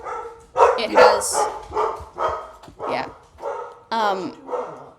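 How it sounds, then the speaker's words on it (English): A dog barks intermittently in the background of a home call, several sharp barks and a yip spaced across the clip, partly overlapping a person's speech. "I would like to apologize for the dog in the background."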